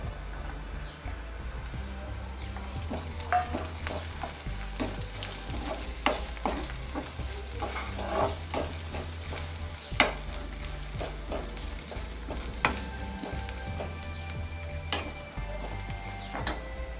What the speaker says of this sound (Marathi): कांदा आपला लाल झालाय, आता त्याच्यामध्ये लसूण आणि आलं टाकूया।